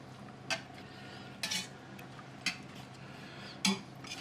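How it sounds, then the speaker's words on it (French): A spoon stirring veal sauté in sauce in a pan, four separate scraping clinks spaced about a second apart, close but quiet, with no one talking. "On mélange bien."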